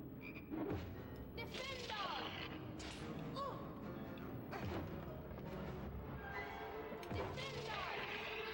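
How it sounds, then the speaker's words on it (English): A frog croaks repeatedly in the Harry Potter and the Sorcerer's Stone video game, rough rhythmic croaks running throughout amid other game sound effects. "I'm gonna go see if I can pick up that other frog I keep hearing"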